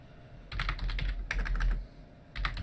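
Fast typing on a computer keyboard in close, clear bursts of key clicks, with a short pause before a final flurry.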